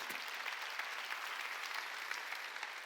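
A church congregation claps during a Sunday worship service, a dense and steady wash of applause that carries evenly throughout without speech.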